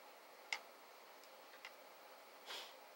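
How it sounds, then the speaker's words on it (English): A vintage 1964 WestClox wind-up alarm clock ticks faintly, with a few sparse, soft clicks spread out over a quiet background. "It is another vintage WestClox alarm clock from 1964. This clock is all wind up."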